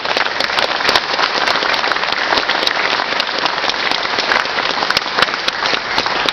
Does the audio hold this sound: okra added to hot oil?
no